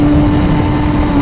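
A Suzuki GSX-R1000R sport motorcycle engine, 2017 model, roars loud and close as the rider shifts up and opens the throttle, a steady high drone climbing briefly.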